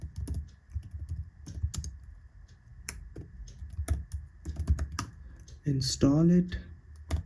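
Quick clicks of typing on a computer keyboard during an Arch Linux setup, scattered keystrokes in short irregular bursts, close and fairly quiet, with someone speaking briefly near the end.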